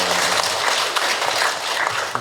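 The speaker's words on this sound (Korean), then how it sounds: "와 박수." An audience at a meditation and psychology seminar applauds, a steady, fairly loud crackle of many hands clapping that runs throughout with no pauses.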